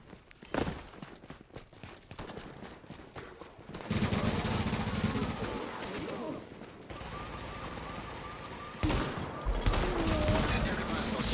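Automated turret gunfire in the video game Tom Clancy's The Division, sustained loud bursts of rapid shooting with short pauses, layered over a busy combat background.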